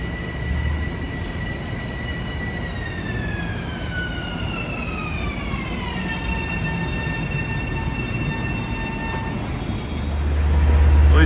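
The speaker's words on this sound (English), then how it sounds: "Here comes train 1264 from Grand Central to Seaford, our destination." LIRR M7 electric train 1264, car 7008, pulls into Valley Stream station on its Grand Central to Seaford run, a steady loud rolling rumble with descending whining motor tones as it slows, growing heavier near the end.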